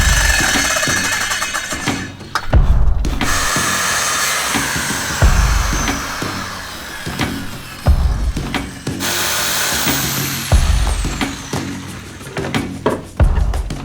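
Wood is cut in bursts for a camper storage build, with loud rasping passes separated by short pauses and handling knocks, close by and without talk.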